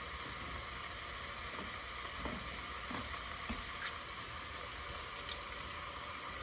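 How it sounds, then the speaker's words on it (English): Hand-crushed whole peeled tomatoes drop into a sizzling chili pot, giving a faint, steady frying hiss broken by a few soft wet plops and stirring clicks, with no talk. "I like to crush them in my hand and put them in here."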